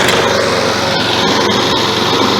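A Toro lawn mower pulled from the trash, overfilled with oil, running at a loud, steady high-pitched roar that fills the whole short stretch with no pause.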